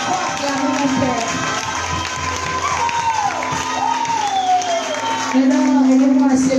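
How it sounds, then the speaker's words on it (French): A church congregation at a conference plenary cheers and acclaims loudly, a dense crowd roar with shouts and applause running throughout, rising again near the end under a voice that keeps speaking. "Oh, acclame mon Père."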